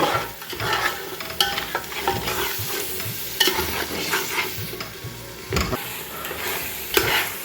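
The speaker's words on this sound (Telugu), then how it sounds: "మన టమాటా ప్యూరీ కూడా దీంట్లో ఫ్రై అయిపోయింది" Tomato puree fries in oil for a country chicken curry, a dense, continuous sizzle broken by repeated scraping stirs of a spoon against the pan.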